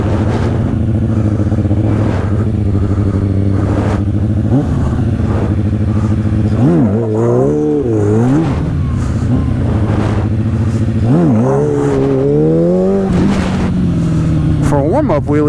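A stunt motorcycle engine revs repeatedly during warm-up wheelies, rising and falling in pitch in several loud surges over a steady idle, with someone talking over much of it.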